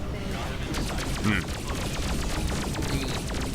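Rapid bursts of ship weapon fire from the space combat game Freelancer crackle in a dense, steady stream of sharp repeated shots at even volume, under a player talking.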